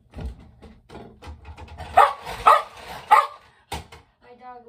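A pet dog barking in a home, several short sharp barks in a loose rhythm mixed with softer yips and whimpers, with a person talking around them.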